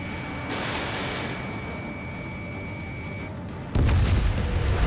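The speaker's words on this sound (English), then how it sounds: "Nice kill, Trigger. Enemy aircraft confirmed down" In the Ace Combat 7 video game, an enemy aircraft is shot down, heard as a steady rumbling engine and wind bed followed by a sudden louder booming burst near the end, with no speech.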